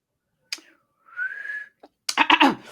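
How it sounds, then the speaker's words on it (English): A person whistles a short, single rising-then-level note after a sharp click, alone and close, followed by a burst of breathy laughter or vocal noise. "My whistling is terrible."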